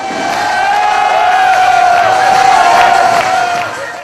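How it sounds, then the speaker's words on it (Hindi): An audience at a live Hindi talk erupts in loud, sustained cheering and crowd noise lasting several seconds, with a steady tonal hum running underneath. "यहाँ बैठे अगर जो लोग ताली दिल खोल के बजा रहे हैं"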